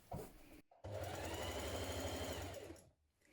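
A sewing machine sews dress facings at a sleeve armhole: a brief burst of stitching, a short pause, then a steady, close, even-paced run lasting about two seconds before stopping.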